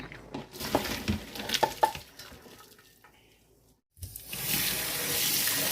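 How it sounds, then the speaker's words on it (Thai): Water runs and splashes as cooked rice noodles are poured into a colander and rinsed in plain cool water in a kitchen. Busy splashing gives way to a brief quiet gap, then a steady rush of running water. "เทออกใส่กระชอนล้างน้ำนะคะ"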